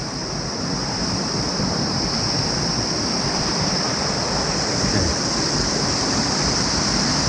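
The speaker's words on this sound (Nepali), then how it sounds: "यो पानी कहाँ जान्छ" Steady rushing water flows continuously in a botanical garden, a broad, unbroken wash like a small waterfall or cascade, fairly close and loud with no talking.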